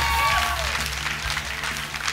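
Audience applause for a contestant named on a televised Armenian competition show finale, a steady broadband clapping that fills the short stretch at moderate level with no talk over it.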